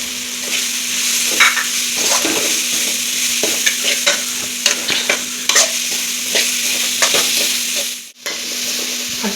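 Shredded cabbage stir-fried in a hot pan for a snake gourd kothu curry roll gives a steady close sizzle, broken by frequent scraping and stirring strokes, with no voices.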